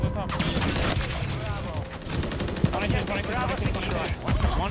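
Rapid automatic MCW rifle fire in a shooter video game, dense crackling bursts running almost without pause, with players talking over the shooting.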